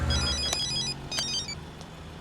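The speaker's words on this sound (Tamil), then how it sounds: "சார் கமிஷனர் ஃபோன் பண்றாரு." A telephone rings in a police scene of a Tamil-dubbed thriller film, a bright electronic bell trilling in a few short bursts, fairly close, over a low background hum with no talk.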